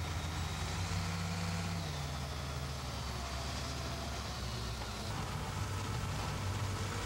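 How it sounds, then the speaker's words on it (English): A heavy motor grader cutting road shoulder material along the pavement edge, its diesel engine a steady low rumble with a faint shifting drone, moderately distant and unbroken. "As the motor grader moves along, the blade cuts away the high spots of material and windrows it along the edge of the pavement."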